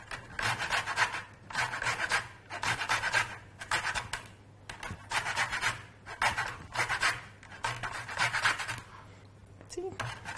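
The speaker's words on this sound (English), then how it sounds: "So as I grate it, I'm turning it so that it's not wearing out in one spot." Lemon rind grated on a hand grater, a rhythmic rasping scrape in repeated strokes with brief pauses as the fruit is turned, close and clear.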